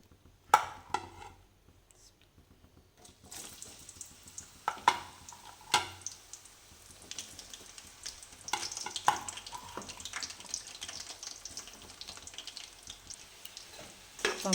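Jackfruit pieces frying in hot oil for chakka pori, a steady crackling sizzle broken by sharp clinks and scrapes of a utensil stirring in the pan, close and moderately quiet with no talking.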